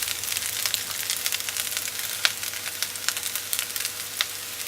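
Mixed vegetables fry in a pan for vegetable rice, giving a steady close sizzle with small crackles and pops throughout and no talking.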